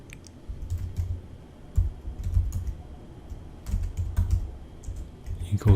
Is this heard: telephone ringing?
no